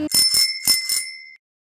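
A bright notification bell, the kind used as a subscribe-button sound effect, strikes about four times in quick succession with a ringing tone that lingers, then cuts to silence.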